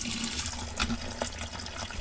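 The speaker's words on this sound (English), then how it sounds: "I'm guessing we need to release the water and we'll give it a spin" Water drains out of a home washing machine before a spin cycle, a steady rushing, gurgling flow heard close and continuous for the whole stretch.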